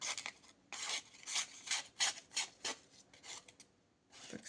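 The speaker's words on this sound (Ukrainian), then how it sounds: "Так, загострювання" A Black Field Titan tactical knife is sharpened with a series of rhythmic rasping strokes, each a bright gritty scrape of roughly half a second, fairly faint and close, with short pauses between them.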